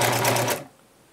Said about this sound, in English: make sure you reverse your stitch, which means just going backwards and then going forwards again.